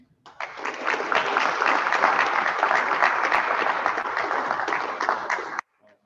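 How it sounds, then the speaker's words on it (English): Applause at a boys golf award ceremony, a steady roomful of clapping that builds quickly, holds evenly for about five seconds, then stops abruptly. "we'll hear one final round of applause for you both"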